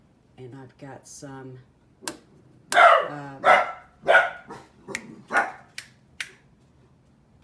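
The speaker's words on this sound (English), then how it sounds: "pardon the dogs again." Several dogs bark close by in a home, loud sharp barks in an uneven series, while a person speaks briefly at the start.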